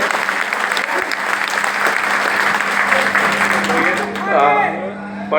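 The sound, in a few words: audience applause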